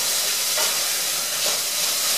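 Tomato paste sizzles in a pan as it is stirred, a steady close hiss with a couple of soft scraping swells and no talking.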